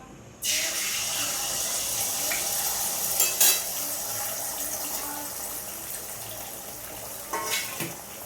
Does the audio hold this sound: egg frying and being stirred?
yes